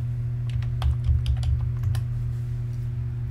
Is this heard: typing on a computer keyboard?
yes